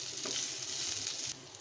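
Bottle gourd peel and potatoes frying with fenugreek seeds and salt, stirred in a pan: a steady close hiss of sizzling oil with faint scraping that eases slightly near the end, no voices.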